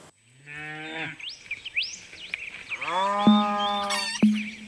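Cattle mooing, two or three long, deep, drawn-out lowing calls in succession with a higher bleat-like start, fairly close and clear with no talking over them.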